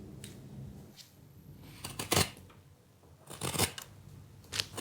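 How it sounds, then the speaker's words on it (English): A knife blade pushed forward through wood in a straight push cut while whittling, giving quiet scraping, shaving strokes in a few short bursts against a soft background hiss. "Place your thumb on the back of the blade and push the knife forward away from your body."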